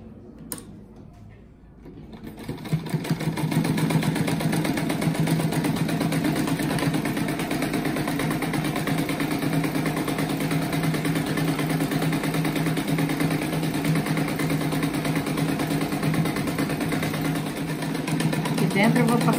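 Sewing machine runs steadily for most of the span, stitching seams across a round crochet-style rug; a continuous mid-loud motor drone with fabric feeding, starting after a brief quieter moment at the beginning.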